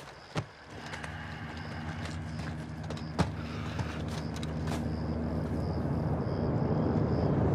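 A helicopter approaches in Modern Warfare 2, its rotor and engine drone rising slowly from faint to loud over several seconds, with a couple of sharp knocks early on.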